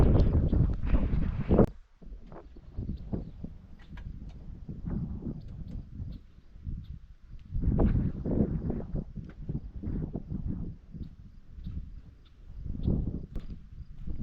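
Gusty wind buffeting a microphone outdoors at Willow Creek Campground in Oregon, rising and falling in strong rumbling surges with quieter lulls between.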